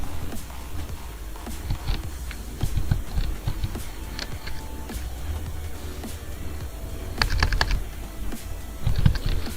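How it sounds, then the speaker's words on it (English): A computer keyboard is typed on in short irregular bursts of close clicking keystrokes, with pauses between runs and a faint room hum underneath. "So I'm just going to type that here as it appears."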